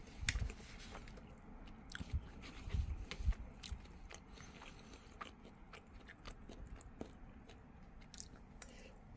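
Close, quiet chewing and biting of Kirkland Signature Italian sausage and beef lasagna, soft squishy mouth sounds with occasional cutlery scrapes and clicks, and no talking.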